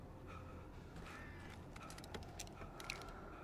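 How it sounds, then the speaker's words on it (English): Flock of crows cawing in the video game Alan Wake Remastered, scattered harsh calls over a steady low rumble of ambience, brief louder caws rising toward the end, no talk. "Oh my god, that is a lot of birds."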